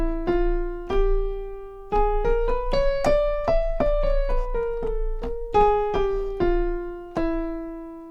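An octatonic scale starting with a half step is played one note at a time on a clear, sustained pitched instrument, rising and then falling again in a steady rhythm. The notes ring out alone and loud, with no voices.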